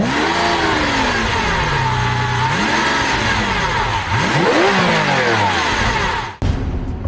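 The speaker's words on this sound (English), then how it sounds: "Bury the throttle, and this 48-valve brute will leave you grinning all the way to central booking." A mid-mounted 48-valve V12 in a 2012 Lamborghini Aventador revs hard under throttle, pitch sweeping up and down through several loud, close climbs before cutting off abruptly near the end.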